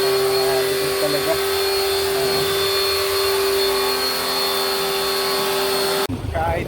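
An air conditioner unit being cleaned by a cleaning service gives a loud, constant machine whine with a strong steady hum and high tonal lines, running throughout before cutting off near the end.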